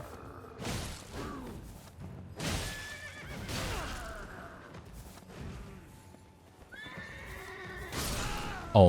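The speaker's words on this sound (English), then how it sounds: "The horse literally got me." A horse in the video game Elden Ring gives several loud, shrill neighs and whinnies, broken by thudding hoofbeats and impacts, all in bursts with short pauses between.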